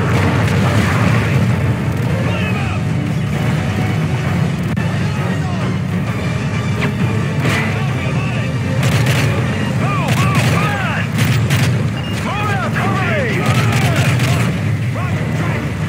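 Call of Duty Modern Warfare 3 (2011) battle with dense automatic gunfire and booming explosions, rapid bursts and crackling shots continuing loudly throughout.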